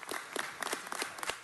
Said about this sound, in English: Everybody, let's give Maury, he's with L.A. County, a round of applause.